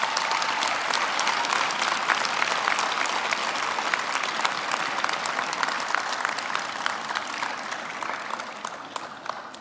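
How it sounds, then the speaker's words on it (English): Graduates and the audience at a spring university graduation ceremony give sustained applause, a dense crackle of many hands clapping that continues for about ten seconds and tapers slightly toward the end. "I would now like to request our graduates to applaud their families and spouses and everyone else that supported them"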